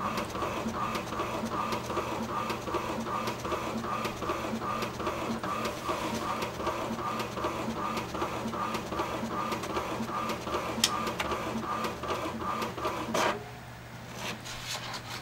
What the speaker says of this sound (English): it wants to print another sheet